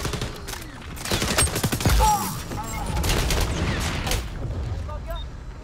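Gunfire from the online shooter XDefiant, with bursts of shots and booming impacts over a busy game mix, loud and close throughout, alongside other in-game effects.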